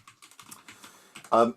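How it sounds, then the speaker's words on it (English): Keys clatter on a computer keyboard in a quick, light run of taps, close and fairly quiet, ending in a louder burst. "So if I start typing"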